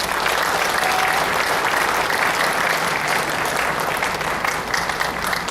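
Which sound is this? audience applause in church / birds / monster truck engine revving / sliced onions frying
audience applause in church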